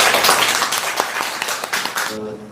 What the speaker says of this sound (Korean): 한 번 더 우리 박수 부탁드립니다.